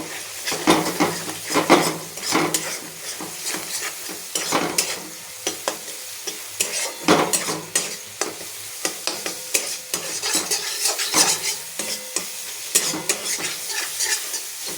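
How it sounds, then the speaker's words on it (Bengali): An egg fries in a pan on full flame with a constant crackling sizzle. Repeated scraping and stirring strokes from a utensil against the pan come through clearly and close, with no voices. "আগে ডিমটা দিয়ে দিয়েছি একটু ফুল ফ্লেমে ডিমটা ভেজে নেব"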